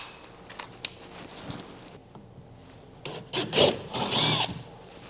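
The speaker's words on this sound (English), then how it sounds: "I'm going to come back through with that 3/8 inch drill bit." A drill with a 3/8 inch bit bores a hole during a TitanX 12.5 steering kit install, with rubbing and grinding bursts that swell louder toward the end after quieter handling noises.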